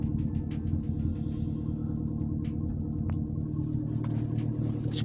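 A Mercedes-Benz M111 turbo engine idles roughly, a steady low rumble broken by irregular ticks and pops, heard close up and alone.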